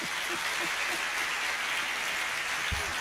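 Continuous applause from a university public lecture audience fills the hall, a steady, dense clapping that carries on without pause.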